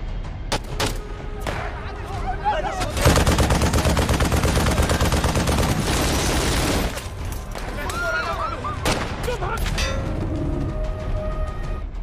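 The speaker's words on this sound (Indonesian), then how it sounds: "beberapa anggota Daesh menembaki warga sipil dengan membabi buta" Automatic gunfire from a war film scene in which militants shoot at civilians, with dense bursts of shots, loudest in the middle, and voices and horse whinnies mixed in between the volleys.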